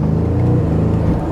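A BMW M5 CS accelerates from about 1500 RPM on the road, a loud, deep engine drone building steadily over a brief moment.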